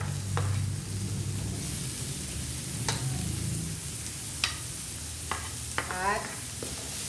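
Onion being sautéed in a pan with garlic for menudo, a soft steady sizzle under occasional scraping and stirring clicks of a utensil, quiet and close.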